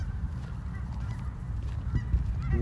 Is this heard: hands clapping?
no